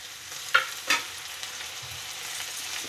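Tomatoes are stirred into a frying potato and pea curry with kasuri methi: a steady soft sizzle runs throughout, with two quick spoon scrapes against the pan near the start, close and with no talk.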